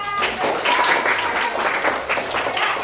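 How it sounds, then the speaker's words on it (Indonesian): A class of children in a coding lesson claps briefly, a short burst of uneven clapping rising and holding at moderate loudness. "Ya, tepuk tangan."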